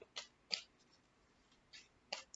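Quiet, brief papery flicks of tarot cards being shuffled, a few soft bursts spaced apart, close by with near silence between them.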